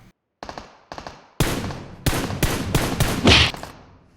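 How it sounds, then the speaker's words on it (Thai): Gunfire in the PUBG Mobile video game, with enemy shots coming from below during a match. Several sharp single shots are followed by rapid, loud automatic bursts, all close and clear with no talk. "มีเสียงปืนด้านล่างนะ"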